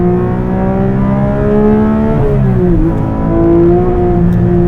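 A Porsche GT3 engine screams steadily at high revs between 5,000 and 9,000 RPM, loud and close, its pitch dipping briefly before climbing again.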